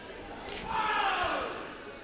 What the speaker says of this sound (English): Crowd not happy with those fouls